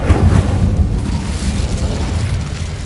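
Incendiary spell blast from the game Hogwarts Legacy, a heavy low boom that hits hard at the start and then rolls off into a rumbling, crackling tail, loud and alone.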